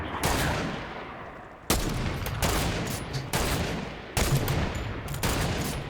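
Semi-automatic gunfire in a video game, loud and close: a series of sharp reports in irregular bursts, each decaying briefly before the next, with no voices over them.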